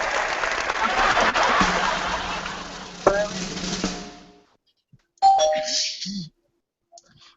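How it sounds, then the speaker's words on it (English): An audience claps through a loud, sustained burst of applause at a video game expo event, then it stops abruptly. A brief, brighter burst of crowd noise follows after a short silence. "clap your hands"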